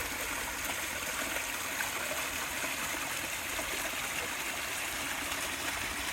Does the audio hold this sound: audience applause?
no